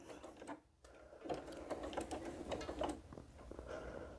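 A sewing machine back stitches at the start of a seam on a mitered corner, a quiet run of rapid needle clatter with a brief pause before the stitching picks up again.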